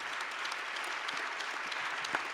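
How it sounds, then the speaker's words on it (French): A crowd applauds in a steady, even patter of claps, moderately loud and continuous throughout. "qu'on puisse vous applaudir encore"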